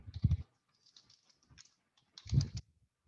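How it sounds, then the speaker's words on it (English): Keys tap on a computer keyboard during an Angular deployment session, in two or three short bursts of quiet, close clicks separated by brief pauses. "Let me type it again."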